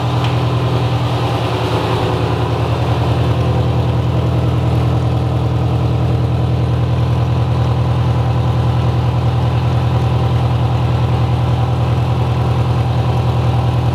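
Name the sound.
car engine idling, checked for exhaust leak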